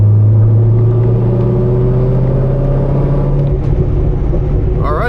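A Corvette C6 Z06 accelerates in fifth gear at partial throttle, its loud engine drone climbing steadily in pitch from inside the car.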